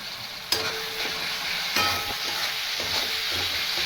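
Gentle sizzling of tomato frying in oil with a few sharp metallic clicks and scrapes of a utensil against the pan, no speech.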